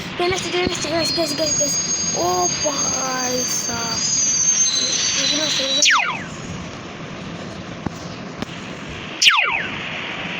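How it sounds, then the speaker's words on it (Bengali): A train approaches in the mobile game Indian Bikes Driving 3D with sustained high screeching tones and rumble, a sharp descending sweep near the middle and another toward the end, while a voice speaks briefly. "ততক্ষণ আপনারা ওই ট্রেন আসছে গাইস।"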